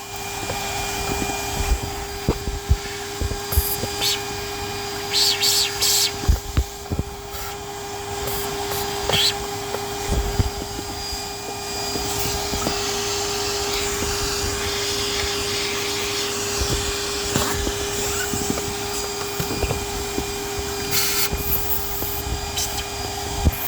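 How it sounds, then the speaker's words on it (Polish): A vacuum cleaner hose runs around the cabin filter area of a Citroen C5 X7, giving a loud, steady whine with a strong constant tone, broken by scattered knocks and clatter as the nozzle bumps the car's plastics. "Zabieram się za odkurzanie."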